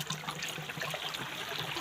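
A steady stream of water runs and splashes continuously, close and fairly loud, with no voices.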